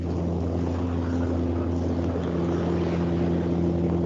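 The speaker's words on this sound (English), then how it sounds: "I'm hearing a small plane coming over" A small propeller plane drones overhead, a steady buzzing engine hum with a low throb, fairly close and continuous.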